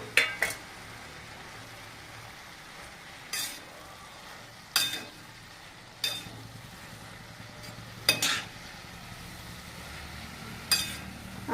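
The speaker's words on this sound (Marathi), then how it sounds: "तर आता आपल्याला मस्त हिला हलवून द्यायचं." Methi bhaji with moong dal being stirred in a pan, the spoon scraping the bottom in sharp clinks every couple of seconds over a faint steady sizzle.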